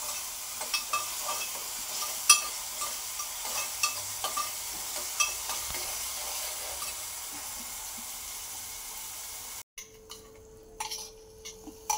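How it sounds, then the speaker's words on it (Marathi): Ground chilli, garlic and cumin paste frying in oil, steady close sizzling with repeated scraping stirs and small utensil knocks, then a sudden cut to a quieter burst of clatter near the end. "मिरची, लसूण, जिरं वाटलेलं होतं ते तेलात भाजून घ्यायचं आहे।"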